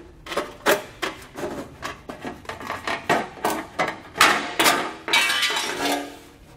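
Metal heat shield on a 2013 Subaru Outback being trimmed, likely with snips: a rapid series of sharp, bright cutting snaps and crunches, close and fairly loud, with no talking.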